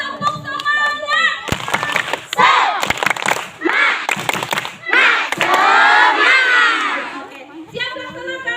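A school class does a 'tepuk semangat' spirit cheer, with rhythmic bursts of clapping and loud children's shouts in chorus. Sharp claps punctuate the group yelling, and a teacher's voice is heard at the start and end.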